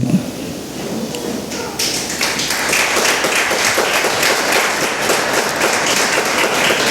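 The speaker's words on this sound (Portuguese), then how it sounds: "Aplauda Jesus" A church congregation applauds steadily, with dense clapping from many hands filling the room. A few voices can be heard under the sound of the clapping.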